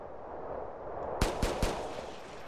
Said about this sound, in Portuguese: Olha os tiros, que da hora.